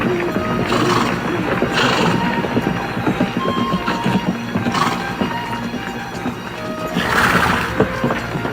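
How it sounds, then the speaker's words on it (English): A big bunch of horses in a western film make a dense, continuous rumble of hooves and clatter, with bursts of louder noise and neighing rising over the steady galloping. "Bunch of horses coming this way from the river, Captain. Big bunch."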